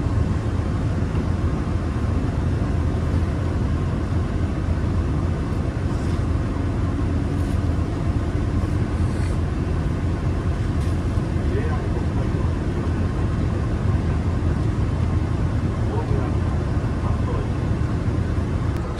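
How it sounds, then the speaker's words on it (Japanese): A Hokkaido Home Liner express train pulls slowly out of Teine Station, heard from inside a green car as a low, continuous rumble with faint clicks and rattles running steadily underneath. "手稲駅をゆっくりとですね出発していきました"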